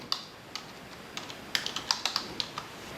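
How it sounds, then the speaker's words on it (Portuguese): Brief bursts of typing on a computer keyboard, about a dozen close, crisp key clicks in an uneven rhythm over a quiet room hiss, with no talk. "Então vamos pegar aqui, digitar chumbo"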